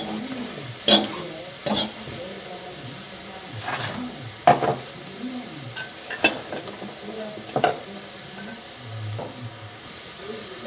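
Masala with fenugreek leaves cooking in a pan, a steady soft sizzle broken by occasional scraping stirs and light clinks of the utensil, with no talk.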